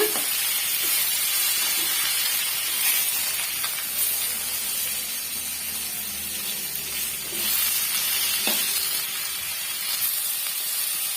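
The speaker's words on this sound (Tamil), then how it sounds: "சேர்த்துட்டு மீடியமான ஃப்ளேம்ல வச்சு வதக்கி விட்டுக்குங்க" Radish fries on a medium flame for a chutney, giving a soft, even hiss of frying with a few faint clinks of a stirring spoon and no talking.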